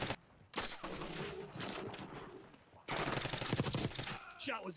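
Video game gunfire in bursts, with rapid shots rattling in dense volleys separated by short gaps, fairly loud with a burst near the end; a voice may be faintly mixed in.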